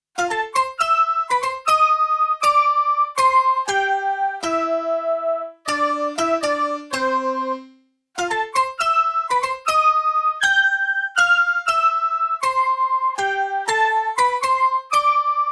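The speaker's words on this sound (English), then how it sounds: "for the melody, I'm using a combination of a piano patch, pitched cowbells, and this whimsical flute" A plucky 1990s video-game-style melody of piano patch, pitched cowbell and flute tones plays in quick bouncy notes with a few longer held ones, clear and upfront.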